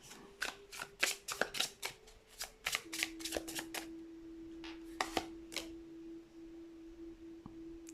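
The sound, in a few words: tarot cards being shuffled and drawn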